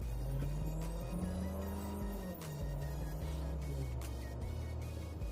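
A 2025 Skoda Karoq accelerating hard, its engine rumbling steadily from inside the cabin with the tone rising and shifting as it pulls, no voices over it.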